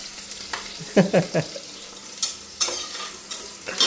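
Mutton tipped into a hot pan and stirred: a soft background sizzle broken by sharp clattering scrapes of a spoon against metal, in uneven bursts, close and fairly loud.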